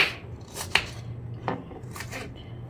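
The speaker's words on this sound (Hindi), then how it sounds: "प्याज टमाटर काट के दे देती हूँ।" A knife chops onions and tomatoes on a board in a home kitchen, a few sharp, separate cuts spaced about half a second apart, close and fairly loud with no talking.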